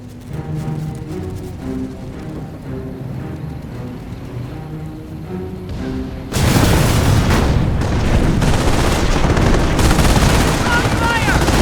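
Dense machine gun fire with heavy booms from a Company of Heroes battle bursts in loud and continuous after a quieter stretch of distant combat, with voices calling out beneath.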